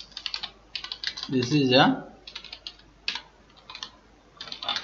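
Rapid clicking of a computer keyboard as code is typed, in bursts with short pauses, fairly close; someone speaks briefly over the keys partway through.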